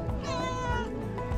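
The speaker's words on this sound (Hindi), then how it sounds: "यहाँ पर एक बिल्ली है यार खतरनाक और प्यारी" A cat in Chooka, Uttarakhand, lets out one drawn-out, clear meow close by, with faint background noise around it.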